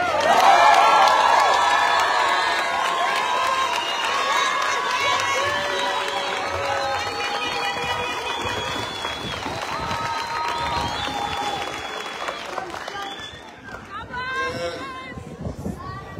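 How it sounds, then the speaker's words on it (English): A crowd at an outdoor athletics track in George applauds and cheers for Minister Gayton McKenzie, with whoops, shouts and babbling voices over scattered clapping, loud and sustained throughout. "let me give a round of applause to our National Minister, Gayton McKenzie"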